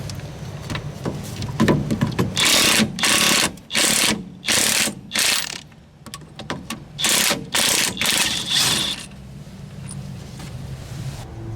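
A hand ratchet clicks in long, steady bursts with short pauses while a front hub assembly bolt is removed on a Lexus GS350, loud and close outdoors.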